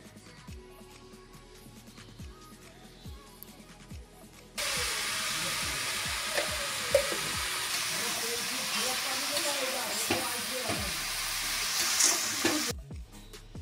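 Sizzling hiss in a pan as bottle gourd with slit green chilies and salt is stirred, a loud fry bursting in after a quieter start with scraping strokes, then cutting off near the end.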